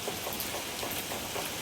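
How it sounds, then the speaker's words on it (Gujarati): Steady rain falls during a long drive, heard from under a solar panel as water comes down: an even, moderate wash of patter with no voices. "હું વરસાદમાં સોલાર નીચે ઊભીને શૂટ કરું છું. પાણી પડે છે."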